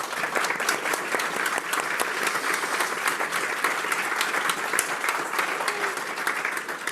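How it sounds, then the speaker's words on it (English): An audience claps for a discussion panel in steady, dense applause lasting several seconds, individual claps crisp and close, without interruption. "A round of applause for our panellists."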